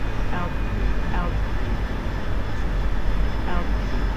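Jet engine roar in a flight simulator during a night carrier-approach bombing run, a steady loud broadband drone filling the whole stretch with no pauses, while a voice talks over it.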